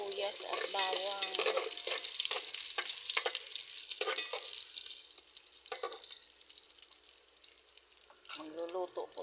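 Onion and garlic sautéing in a pan for stir-fried vegetables, a continuous bright sizzle heard close and fairly loud, with a person talking over it at the start and again near the end.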